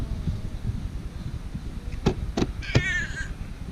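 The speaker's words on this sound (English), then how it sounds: "Look, bird." At a beach, a bird gives a few sharp crow-like caws, the last a wavering call, heard over wind and surf noise.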